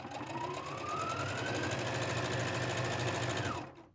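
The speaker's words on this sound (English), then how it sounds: "So we're gonna sew all the way up to there." A sewing machine runs a seam on a drawstring bag, its motor whirring in one continuous, rising hum with rapid needle chatter, close and steady before stopping abruptly at the end.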